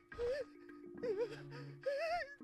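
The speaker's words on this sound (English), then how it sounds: "He's panting, he's screeching." A game character in the horror game Corpse Party pants and screeches in three strained, wavering cries separated by ragged breaths, close and loud over a low steady background hum.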